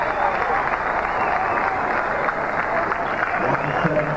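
A cricket crowd at a 1999 West Indies vs Pakistan one-day international in Toronto cheers and applauds after a batsman pulls the ball for four, a dense, steady roar of clapping and voices throughout.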